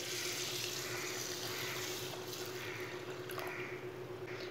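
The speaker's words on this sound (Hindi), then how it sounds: "1 गिलास पानी डाल" One glass of water pours onto cleaned masoor dal, a steady, continuous rushing splash heard close and alone throughout.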